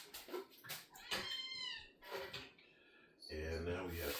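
A house cat meows several times, close and clear, with short rising calls spread through the clip between stretches of room noise and a low hum near the end.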